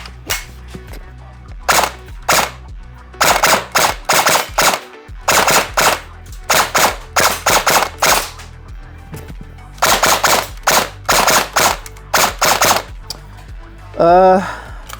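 A Lancer Tactical KR9 airsoft gun fires loud, sharp shots in quick bursts and single pops, close and clipped, with brief pauses between strings and a short whirring rattle near the end.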